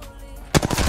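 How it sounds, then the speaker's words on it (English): Gunfire from a player aboard a ship in an online shooter game, with a quiet lull followed by a sudden loud burst of rapid shots. "Is someone on the ship shooting? Yep."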